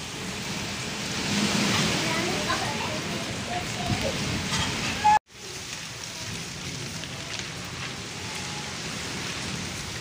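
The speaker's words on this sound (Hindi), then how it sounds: "बादल अभी ज़ोर से गरज रहे हैं, हल्की हल्की बारिश भी हो रही है।" Rain hisses down steadily during a village thunderstorm as wind rushes past. The steady wash is broken by one sudden, brief gap, and no distinct thunderclap stands out.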